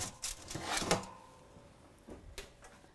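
An oven door swings shut on a home kitchen range, a couple of close, dull knocks and a clatter with a faint metallic ring, then quieter handling sounds after it.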